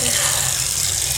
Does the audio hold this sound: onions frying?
no